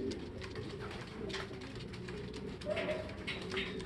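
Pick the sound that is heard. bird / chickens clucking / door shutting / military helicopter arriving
bird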